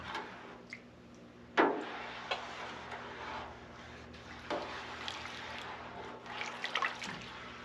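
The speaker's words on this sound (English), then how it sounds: "And I'm going to add my dish detergent. I always struggle with that one. And give this a good stir." A spoon stirs a yarn dye bath of water, citric acid and dish detergent, giving soft liquid swishes with a sharp clink near the start, scattered small knocks and drips, and a faint steady hum underneath.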